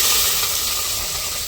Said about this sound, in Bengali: তেলের মধ্যে হচ্ছে জিরা দিয়ে দিছিল আনাম জিরা আর রসুন কুচি পেঁয়াজ কুচি দিয়ে দিল